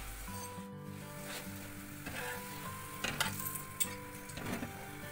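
A dry milk paratha fries in a pan, a soft, steady sizzle under a faint low hum, broken by a few light clinks and scrapes of a utensil against the pan.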